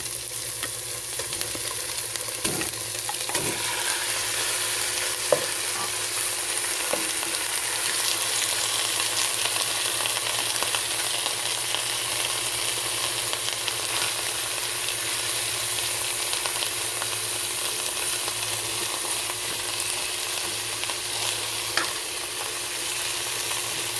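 Chicken meat for chicken afritada frying in a pan, a steady dense sizzle holding level throughout with a few brief clicks and stirs, close and continuous with no talk.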